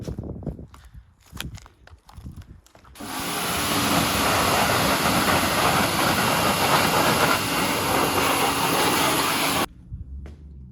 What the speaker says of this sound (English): Miller's got the pressure washer out for me